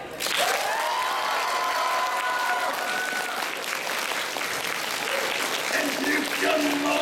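A convention audience at an anime Q&A panel bursts into sustained applause and cheering, with a loud, continuous wash of clapping and some shouting voices mixed in throughout.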